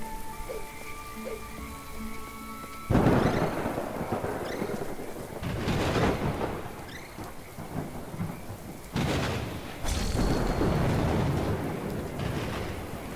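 Flashbang explosions in Little Goody Two Shoes go off one after another, each a loud booming burst with a long rumbling, hissing tail, after a quieter stretch of tonal game music.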